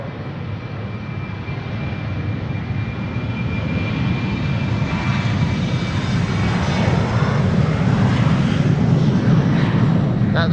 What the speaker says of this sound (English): there is a LATAM cargo 767 now lining up on the center runway to take off next